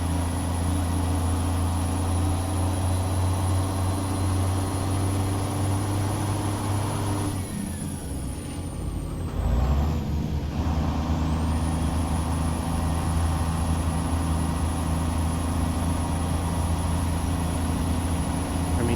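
A Freightliner FLC truck in American Truck Simulator pulls a walking floor trailer uphill, its engine a steady, loud, low harmonic drone with a brief dip and hiss near the middle before the pull resumes.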